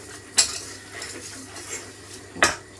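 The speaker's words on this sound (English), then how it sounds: "So keep stirring." A utensil stirs milk into a sauce in a pot, with two sharp metal clinks against the pot and softer scraping and stirring between them, close up, no talk.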